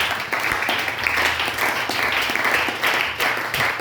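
A church congregation applauds in a dense, steady wash of clapping that runs the whole stretch, with faint voices mixed in.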